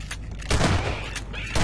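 Rapid gunfire in the horror shooter The Nightmare House 2, several loud close shots with booming low end, fired in quick succession.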